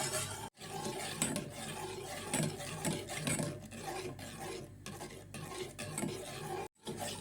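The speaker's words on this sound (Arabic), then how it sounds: "ونبقى نحرك حتى نوصل لواحد على شكل بحال الكريمه" A spoon steadily scrapes and stirs a thickening chocolate cream mixture in a pot, a continuous close rasping and rubbing sound with short pauses and no talk.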